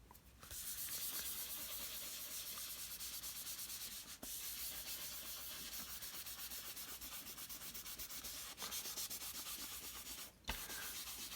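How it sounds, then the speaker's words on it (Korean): Tissue rubbed over a pencil drawing of sky in a landscape sketch, a soft continuous close-up scrubbing hiss with a few brief pauses, no voices. "하늘 표현하는데 문지르는 거 편하죠"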